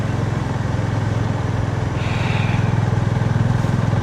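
A motorcycle engine hums steadily at a low, even rumble while riding along a cold mountain road in Kodaikanal, with constant wind and road noise and no talk.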